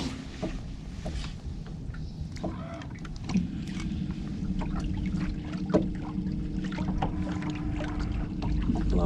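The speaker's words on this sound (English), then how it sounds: "A lot of boats heading this way." Motorboats cruise on a lake at a moderate distance, giving a low, steady engine drone that slowly grows louder, with faint water lapping nearby.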